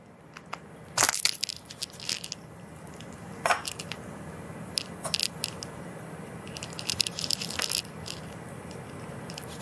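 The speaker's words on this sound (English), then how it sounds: "I'm going to use my simple cookie cutter, and we're going to cut out our ravioli pieces" A cookie cutter presses through fresh ravioli dough on a board, giving crisp scraping clicks and small taps in scattered bursts, close and unaccompanied by talk.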